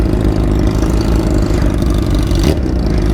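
A motorcycle held in first gear gives a loud, steady engine drone close to the mic, throbbing evenly throughout with a brief change in tone near the end.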